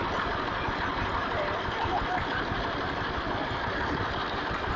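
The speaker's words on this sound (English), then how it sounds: "And at the end we've got a Fowler engine." A vintage Fowler stationary engine drives a water pump at an outdoor vintage rally, running with a continuous, dense, even mechanical roar close by.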